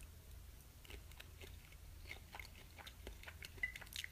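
Someone bites into a sriracha shrimp and chews it, producing soft, close mouth and crunch sounds scattered through a quiet room with faint low background hum.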